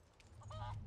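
A short, faint burst of bird calls from a chicken in the Resident Evil 4 Remake video game, a couple of honking clucks over a low background hum.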